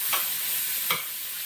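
One chopped onion sizzling in a small hot pan, a steady bright hiss with two short louder crackles as it is stirred, close and with no talk.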